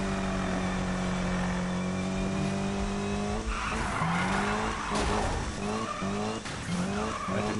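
Racing car engine in Need for Speed roaring at steady pitch, then tires squealing and skidding in a crash into a Land Rover, the engine dropping and revving unevenly afterward, loud and close.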